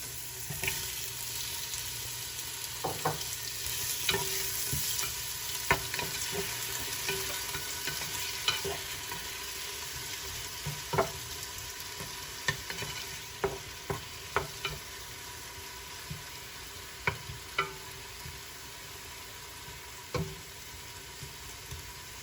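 Onion and tomato for pork sinigang cook in a pot with a quiet, continuous sizzle, broken by sharp clinks of a utensil stirring against the pot, and no voices.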